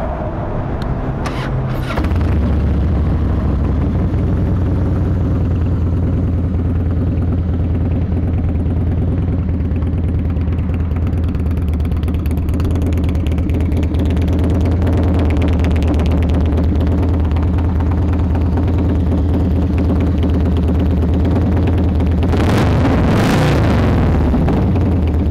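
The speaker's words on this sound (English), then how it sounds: "Good running bike, looks great, this thing's ready to ride." Harley-Davidson Softail Springer FXSTSI motorcycle with about 24,630 miles, its engine idling steadily with a deep, even low rumble close by for the whole stretch, a brief rev near the end, no talk.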